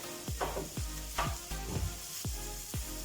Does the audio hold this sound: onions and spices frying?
yes